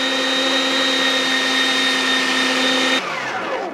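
An electric meat grinder runs steadily with a loud, constant motor whine as meat feeds through the hopper into a fine grind, and the pitch drops as the motor winds down near the end.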